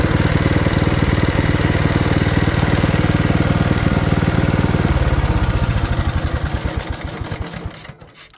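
A Bolens 824 snowblower repowered with a Briggs and Stratton engine runs loud and steady while throwing snow, its rapid engine chugging sustained before slowing and winding down toward the end.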